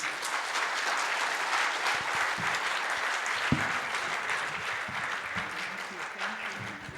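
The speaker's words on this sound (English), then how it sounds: "So at least give them a passionate clap, please." Sustained applause from the audience at a Brahmo conference session in Hyderabad, a steady, dense wash of many hands clapping for the full stretch, fairly close and even in level, with faint voices mixed in.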